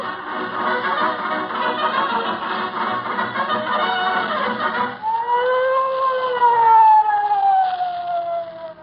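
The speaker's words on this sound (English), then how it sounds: "What's the idea of sounding the siren, Officer Mahoney?" A police siren wails, rising and falling in long sweeping tones, loud and close, with a shift in pitch pattern partway through, in an old radio comedy.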